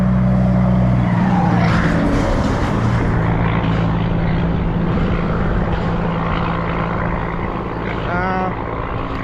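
Loud, continuous engine and traffic rumble, vehicles passing close by a roadside, with a brief fluttering rattle near the end.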